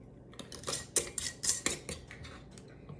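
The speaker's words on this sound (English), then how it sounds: "we're gonna put the lid on and our ring" Metal canning lid and screw ring set onto a glass jar of pot roast, producing a close series of light clinks, taps and scraping twists in an irregular rhythm.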